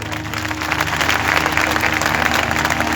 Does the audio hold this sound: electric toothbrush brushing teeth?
no